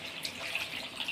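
Water is poured into a pan of fried chicken curry being cooked with moringa flowers, a steady splashing trickle that runs for a second at close range, with no voices.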